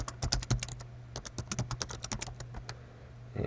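Keys on a computer keyboard are tapped in quick bursts while a password is entered, with close, crisp clicks over a faint steady hum.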